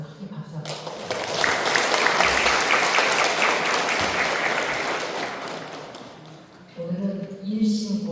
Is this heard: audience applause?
yes